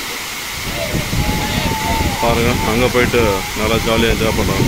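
Water pours steadily at Chunayanmakkal Waterfalls in Kerala, a constant broad rushing hiss that runs under someone talking throughout.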